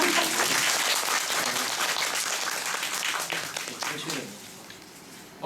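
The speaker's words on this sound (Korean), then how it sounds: "작가님과 작가님에게 다시 한번 박수를 좀 해주시면" An audience applauds the writers at a Korean musical talk event, loud dense clapping at the start that gradually thins and fades, with a voice briefly audible near the end.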